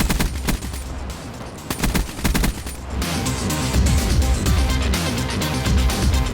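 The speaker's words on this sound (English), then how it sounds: "So burst fire in 3 to 4 second bursts so you can hit your targets at long range and pick up those kills." Rapid burst gunfire in the game Call of Duty: Black Ops III, loud repeated rattling volleys with brief pauses at first, then a dense continuous stream of shots, close and prominent with no talk.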